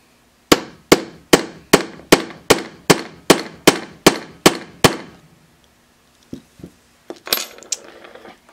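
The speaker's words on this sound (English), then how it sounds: "And we're going to hammer the bejesus out of it." Hammer striking a snap fastener setting tool on a bag shoulder strap: eleven sharp, evenly spaced metallic blows close to the microphone, followed by a few light clinks and handling knocks.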